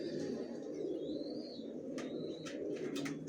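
Racer pigeons kept in a breeding loft coo in a low, steady murmur that runs throughout. Brief chirps and a few short wing flutters come from close by, and no one speaks.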